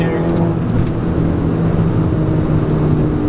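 An APR-tuned 2011 Volkswagen GTI with an automatic transmission and aftermarket exhaust taking turns, a steady, close interior engine drone with road roar underneath and no sharp revving.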